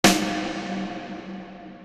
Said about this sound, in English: So we're going to start with a snare drum that sounds like this.